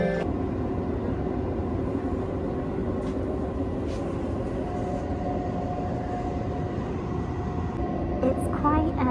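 Constant low rumble and rattle inside a moving passenger train carriage, with a steady hum and occasional creaks filling the whole stretch at moderate loudness.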